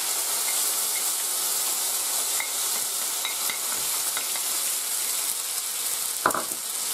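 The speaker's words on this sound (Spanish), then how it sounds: "Cuando ya está caliente el aceite, echamos el tomate." Chopped tomato sizzles steadily in hot olive oil, a continuous bright hiss with small crackles and a brief clatter near the end, close and with no talking.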